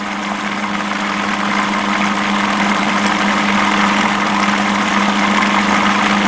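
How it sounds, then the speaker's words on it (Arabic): A kitchen machine blends egg white, oil, lemon juice or vinegar and salt into a thick garlic-style sauce, giving a steady, loud motor drone with a low hum that runs unbroken throughout. "شفنا كيف بلش يتغير صوت المكنة، بلشت تلف على بعض أكثر"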